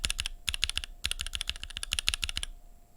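A mechanical keyboard with Mode Reflex linear switches, stock with factory oil on the stems and filmed, is typed on up close in fast bursts of crisp, muted clacks separated by brief pauses.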